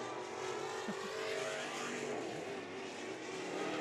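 Race cars in heat races on the Stockton dirt track roar in a steady, distant engine drone that rises and falls slightly as they circle.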